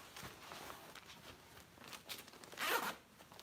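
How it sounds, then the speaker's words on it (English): A zipper is pulled up on a beekeeping suit in a few quick, close rasping strokes, with the longest and loudest pull near the end and no talking. "you zip that up."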